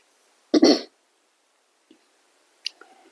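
A woman coughs while eating biryani at an evening iftar meal: one harsh, close cough burst, then a faint throat sound and a small clearing rasp a couple of seconds later, with quiet between.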